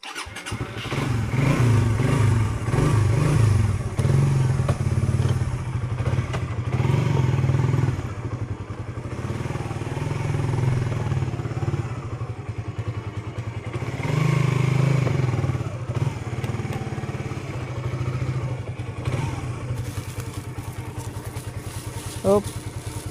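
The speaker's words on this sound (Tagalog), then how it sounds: "babalin ko lang yung motor." A motorcycle engine starts up and runs steadily for a long stretch, with throttle revs swelling and easing, some clatter and a voice talking over it.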